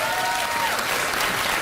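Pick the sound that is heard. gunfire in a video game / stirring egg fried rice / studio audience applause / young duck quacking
studio audience applause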